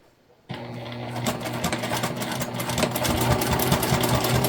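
A sewing machine stitches a gradual curve on a leopard-print tote bag, starting abruptly and running as a close, steady whirring hum of rapid needle strokes.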